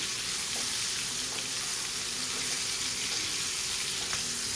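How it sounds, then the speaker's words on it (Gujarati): Stuffed okra sizzles steadily in hot oil in a pan, a constant close hiss with soft scraping as it is stirred, and no voices. "તેલમાં એને સરસ હલાવી લઈશું."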